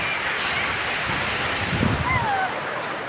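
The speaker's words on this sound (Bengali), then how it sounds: "নদীর পাড়ের বাতাস অনেক ভালো লাগে" Steady wind gusts across an open riverbank during light rain, a continuous broadband rush close to the microphone that stays loud throughout with no clear pauses.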